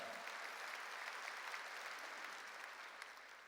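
A church congregation claps together, giving a steady, dense round of applause that stays soft and slightly distant before easing off at the end.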